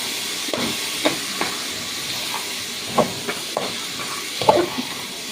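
Peas sautéing in a pan give a steady, close sizzling hiss throughout, with a few soft clicks and stirring knocks rising briefly above it.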